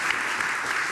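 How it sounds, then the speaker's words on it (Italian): An audience applauds a patient introduced at a talk on treating cervical arthritis, a steady dense wash of clapping that stays fairly quiet and continuous with no voices over it. "facciamo un applauso"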